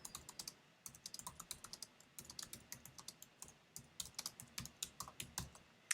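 Quiet, close typing on a computer keyboard, a steady run of crisp key clicks in uneven bursts with short pauses, heard alone without speech.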